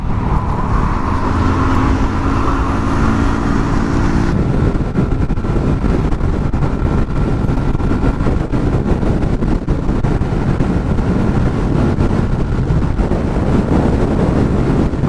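A Suzuki Skydrive Sport 115 motorcycle ridden at around 100 kph, its engine and heavy wind rush roaring steadily and loud throughout without a break.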